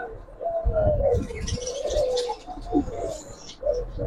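Giribaz pigeons of the green-necked silver variety coo softly in a loft, with repeated low throaty coos and a few faint chirps at a quiet, close distance.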